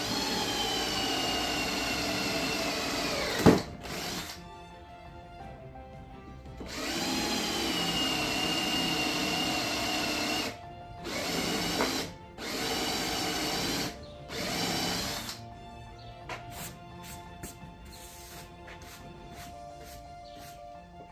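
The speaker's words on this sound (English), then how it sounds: "now we're going to drill up from the bottom, just a small hole" A power drill boring a small hole up through wood whirs in long sustained runs, stopping and restarting several times, then ends in a string of short bursts; close and loud, with no talking.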